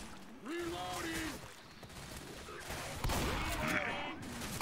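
Video-game gunfire crackles in quick bursts, fairly quiet and mixed with game effects and muffled voices.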